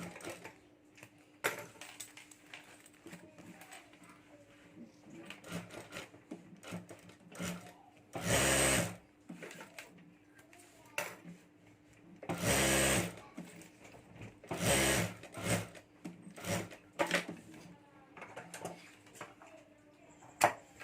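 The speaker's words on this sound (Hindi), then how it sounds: "इसलिए तो यहाँ भी मैं चारों तरफ सिलाई करके साथ में अस्तर ले लेता हूँ।" A sewing machine stitches the lining of a homemade luggage bag, running in several loud close bursts of rapid mechanical chatter separated by quieter pauses with fabric handling and small clicks.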